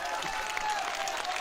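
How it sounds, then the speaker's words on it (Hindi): Standing audience applause at a church revival meeting, a dense, even patter of many hands clapping at moderate distance, continuous and without breaks. "खड़े होकर जरा तालियां बजाएं।"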